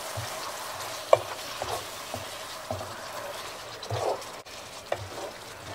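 Pomegranate and walnut meatball stew (fesenjan) simmering in a pot gives a faint, steady bubbling with soft pops and small blips scattered throughout, close by and with no talking.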